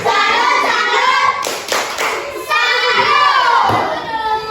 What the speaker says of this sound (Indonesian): Oke, kita berikan tepuk salut untuk teman kita